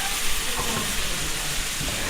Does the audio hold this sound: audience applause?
no